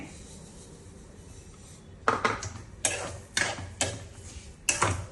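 A cup of grated raw mango and a cup of sugar are stirred together in a pan, with a spoon scraping in several distinct, fairly loud strokes after a quiet start.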